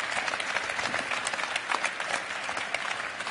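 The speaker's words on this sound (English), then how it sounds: "A huge round of applause for our panel" At a health expo in Manchester, a conference audience applauds a panel, a steady, full burst of many hands clapping with a few sharper claps poking through, continuous and unaccompanied by speech.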